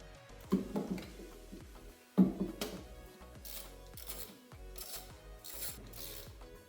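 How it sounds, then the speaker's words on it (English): A ratchet tightens a bolt on a 2024-2026 Buick Encore GX with the 1.3L FWD turbo engine. Close, loud clicking comes in quick bursts, with a brief pause between runs, and no one talks. "Next thing I'm going to do is very carefully install this bolt."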